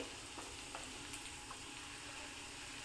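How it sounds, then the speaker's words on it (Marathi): Garlic sizzles in a pan for paneer bhurji, a faint, steady crackling fry with a few soft stirring clicks. "लसणाचा जो कच्चेपणा असतो तो जात नाही तोपर्यंत मी याला छान परतून घेणार आहे"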